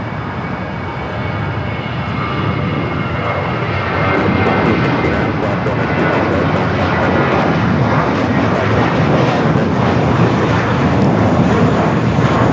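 An Airbus A321 at Los Angeles International Airport gives off a loud, steady jet engine roar that swells slightly after the first few seconds and holds broadband and continuous throughout, with no voices over it.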